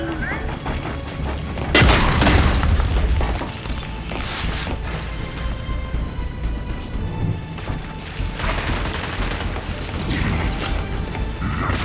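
A frag grenade in Gears of War 5 goes off with a loud, booming blast, followed by mechanical clatter and scattered gunfire-like noise of battle.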